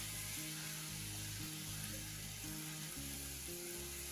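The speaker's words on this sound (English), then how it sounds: "Next, I'm going to add 4 tomatoes finely chopped. Stir in for a couple of minutes." Finely chopped tomatoes sizzle in a hot pan as they are stirred, giving a continuous, even frying hiss under soft background music.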